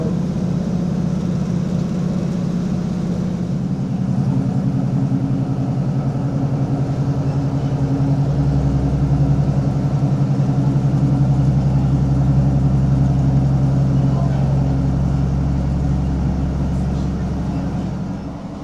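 A ScotRail Class 156 diesel train runs through the Nith Valley with a steady low engine drone and rumble, loud and continuous from inside the carriage, deepening toward the middle of the run.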